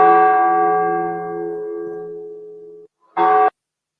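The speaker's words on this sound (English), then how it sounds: "Ring the bell!" A bell rings out as the alarm in a primary school stage production of Macbeth: one loud, close resonant strike that rings and decays for nearly three seconds, then a brief second clang after a pause.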